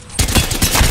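A rapid burst of automatic weapon fire in the Apex Legends battle royale game, sharp shots repeating close and loud in quick rhythm for under a second.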